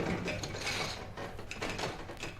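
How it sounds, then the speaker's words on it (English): A wooden hand loom weaves cloth in the Plymouth carding mill at Greenfield Village, giving a continuous dense clatter and rattle of shuttle and mechanism with a steady rhythmic pulse, close and fairly loud, with no voices. "That's the sound of the hand loom that is weaving cloth at this very minute."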